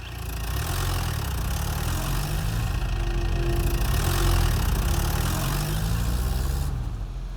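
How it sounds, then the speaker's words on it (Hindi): A tractor engine idles continuously with a low, steady rumble, loud and close, holding the same throb from start to finish. "ट्रैक्टर लेकर ऊपर ही खड़े हैं"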